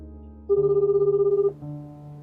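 A telephone ring played as a sound effect: a single steady, pulsed electronic ringing burst lasting about a second, loud and clear, followed by a lower lingering tone, with no talk.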